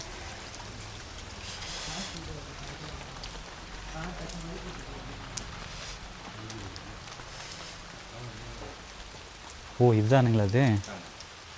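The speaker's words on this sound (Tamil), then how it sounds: "வெளியே மழை தூறல் போடுகிறது" Light drizzling rain outside a temple, a soft steady patter and hiss of drops on surfaces, faint and continuous, with a brief burst of someone talking near the end.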